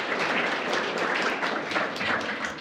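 An audience claps in sustained applause, a dense even patter of many hands filling the room at moderate loudness with no voices over it.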